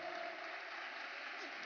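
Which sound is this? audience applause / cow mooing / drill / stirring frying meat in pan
audience applause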